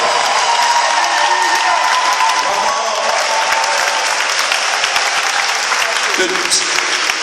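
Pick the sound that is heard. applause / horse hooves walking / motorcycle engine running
applause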